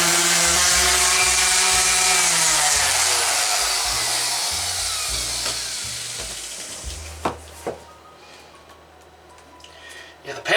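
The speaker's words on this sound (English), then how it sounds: "let me sand it down here just a little bit more, and we'll see where it's at" Power sander working a fiberglass bathtub crack patch, a steady whirring drone with shifting pitch that eases off and stops, followed by a few soft knocks.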